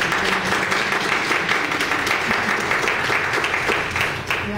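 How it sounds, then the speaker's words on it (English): An audience applauds the panelists after an Asian and Asian American panel discussion at a university, giving dense, continuous clapping from many hands in a room that fades slightly at the end. "just give our panelists a round of applause"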